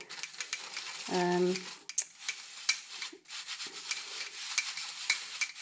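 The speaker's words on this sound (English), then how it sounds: "So it's just sieving through." Scented paste ingredients, including clove lumps, being sieved: a steady dry rubbing and scraping with scattered small clicks and taps, fairly quiet and close, with a brief tonal squeak early on.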